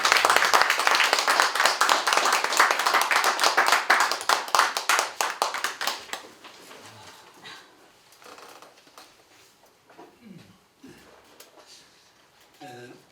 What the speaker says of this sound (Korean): 우리 문대골 목사님 나오실 때 박수로 환영해 주시면 감사하겠습니다